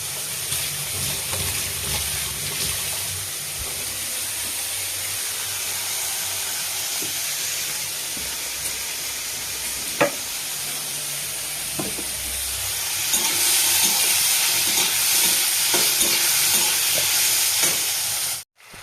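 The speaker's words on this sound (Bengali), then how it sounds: "এই দেখো মাংস কষাচ্ছি" Chicken sautés in a wok, a steady close sizzle and hiss of hot oil with occasional scraping and clinking of a stirring spoon, growing louder toward the end, no voices.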